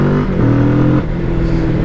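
Motorcycle engine revving loudly and close on a test ride, a rough harmonic drone that rises and shifts pitch partway through the short burst, with no voices.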